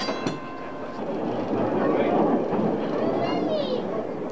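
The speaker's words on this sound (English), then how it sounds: "This 1948 double-ended tram is one of only 10 ever made." A 1948 double-ended PCC electric tram runs on rails, a rumbling roll with a faint whine and light clatter as it moves, with a voice talking over it.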